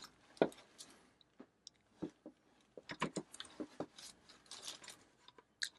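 Plastic pressure washer nozzle on a VERVEWAVE BT1400 electric compact unit being rotated, giving a series of small close clicks and ticks at irregular intervals with handling rustle between them.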